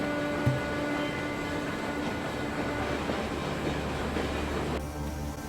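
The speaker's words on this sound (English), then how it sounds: "The train's gears grind to a halt." A train rumbles and clanks steadily, with metallic grinding and a faint squeal as it slows, continuous and fairly close.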